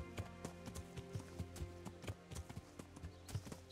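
Rhythmic clip-clop of horse hooves trotting at a steady pace in the video game Kingdom Come: Deliverance, crisp and close, with a faint musical hum underneath.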